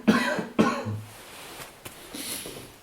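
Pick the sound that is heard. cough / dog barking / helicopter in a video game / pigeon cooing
cough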